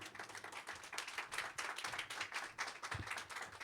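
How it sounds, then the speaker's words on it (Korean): A church congregation at a Sunday worship service claps to welcome the pastor to the front, with lively, uneven clapping from many hands at moderate volume, no speech over it. "우리 이 시간 노이태 목사님을 박수로 모시도록 하겠습니다."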